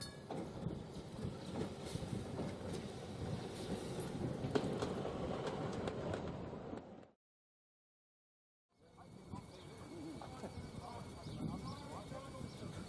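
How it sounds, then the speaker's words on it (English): Vintage Fiducia tram 239 coasts down a steep grade on rails, giving a steady rumbling roll with clicks and creaks. The sound cuts out briefly midway, then resumes. "Here we see Fiducia 239 coasting down the steep grade eastbound towards the depot."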